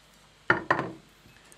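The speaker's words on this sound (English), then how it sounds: "You cut it with the spoon." A spoon cuts into bread, making two quick close clinks and scrapes of metal against a plate, with a faint shuffle afterward.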